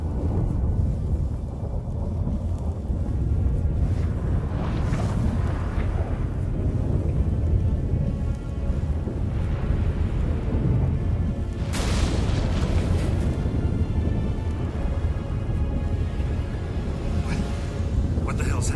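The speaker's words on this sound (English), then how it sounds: "That a storm?" Thunderstorm in The Witcher 3: Wild Hunt, a continuous heavy rumble with booming thunder swells around the middle, under game music and dialogue.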